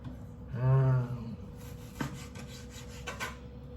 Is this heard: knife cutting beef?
yes